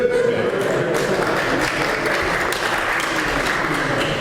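A hall audience at a diocesan synod breaks into sustained applause and cheering, a dense, even wash of clapping that carries on throughout.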